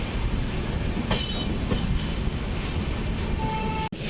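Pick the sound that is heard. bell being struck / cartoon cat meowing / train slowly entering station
train slowly entering station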